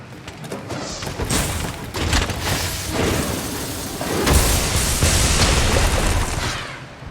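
Charge Blade phial attack explosions in Monster Hunter Rise Sunbreak, a dense run of loud booming blasts and thuds that rolls on without a break and swells near the end, with no talking.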